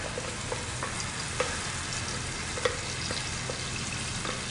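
Sambal ingredients sautéing in hot oil in a wok, a steady close sizzle and crackle with occasional sharp pops and stirring clatters, no voices.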